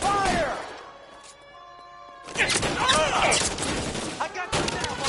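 Gunfire in a shootout in the video game L.A. Noire: dense, rapid bursts of shots that cut off, then resume louder and sustained, with shouting voices and a brief tonal passage between them.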